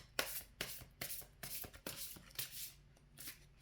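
Tarot cards shuffled by hand in a quick, uneven series of soft slaps and papery rustles, close and moderately quiet, with no talking.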